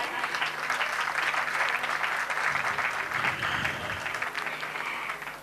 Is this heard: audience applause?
yes